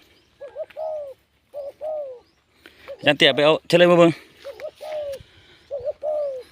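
A male spotted dove coos in repeated short phrases, close and clear in a quiet outdoor setting, with someone talking over it briefly midway.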